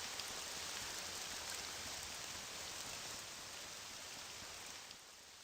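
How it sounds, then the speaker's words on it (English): Loud, steady rainfall in the video game Morrowind, a dense hissing downpour that continues unbroken and eases slightly toward the end, heard alone. "Wow, that rain is really loud."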